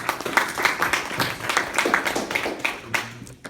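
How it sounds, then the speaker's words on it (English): An audience claps for Tracy at a speech event, dense uneven applause with distinct individual claps standing out, fairly close and lively before it thins near the end. "let's give Tracy a big round of applause"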